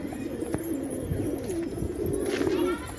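Pigeons coo in a low, steady rolling murmur close by, a pair with a chick among them, while faint speech and background noise sit underneath.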